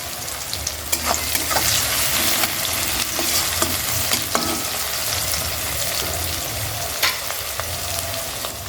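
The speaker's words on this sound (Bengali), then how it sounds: "পেঁয়াজটা একটু হালকা ভেজে নেবো এর মধ্যে অল্প একটু লবণ দিয়ে দিলাম" Chopped onion lightly frying in a pan with a pinch of salt: a steady, close sizzle and crackle runs throughout, broken by occasional scrapes and taps of a stirring spoon.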